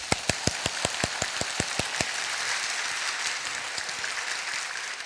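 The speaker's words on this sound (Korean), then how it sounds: "우리 하나님 앞에 10초만 박수 한번 치겠습니다." Clapping from a church congregation during a contemporary Sunday worship service: about a dozen sharp, evenly spaced claps open the clip before giving way to a dense, steady wash of enthusiastic applause from many hands.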